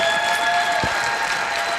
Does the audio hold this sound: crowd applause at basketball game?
yes